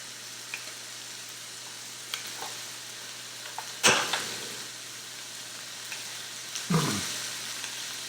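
Beef short ribs, LA galbi style, sizzling on a grill: a steady soft frying hiss under faint low hum, broken by a few clicks and two louder bursts of spitting sizzle, no talking.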